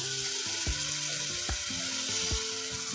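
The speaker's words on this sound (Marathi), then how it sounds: "आता आपण याच्यामध्ये जे आपण तांदूळ भिजत टाकले होते ते आपण ॲड करणार आहोत" Soaked rice tipped into a hot spinach khichdi tempering, giving a steady close sizzle broken by a few sharp scraping clicks from the pan and spoon, with no talking.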